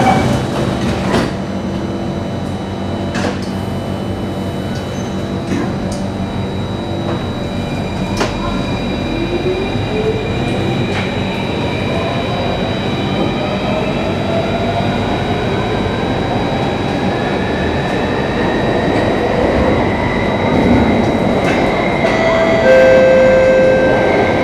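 A Singapore MRT train rides between stations from Stadium to Tai Seng: continuous rumble and rattle, a rising motor whine as it speeds up, and occasional clacks from the track.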